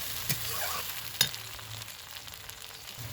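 Tomato paste and minced meat frying in a pan, a low steady sizzle with two brief spatula knocks, quiet and close, no speech.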